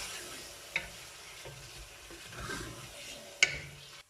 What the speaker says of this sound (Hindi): हमने जिसमें ये 1 किलो चिकन डाल दिया है, ये हम कर रहे हैं भुनाई।